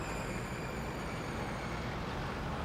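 Busy rush-hour city road with cars, buses and trucks passing, a steady dense roar of engines and tyres holding evenly throughout with no voices.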